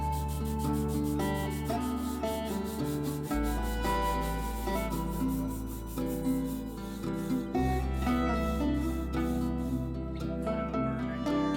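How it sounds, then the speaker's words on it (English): Steady rubbing of sandpaper on scrap wood, sanding away saw burn marks, runs under background music, a soft continuous scraping at close range. "He also takes the time to sand away any burn marks left behind by the saw."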